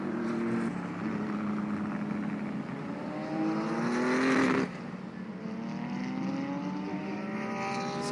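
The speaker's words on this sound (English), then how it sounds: "Safety car coming around again with the lights still on." A GT3 safety car laps the circuit at NOLA during a Fanatec GT World Challenge America race, its engine droning steadily with a rising then falling pitch as it passes, loud and continuous.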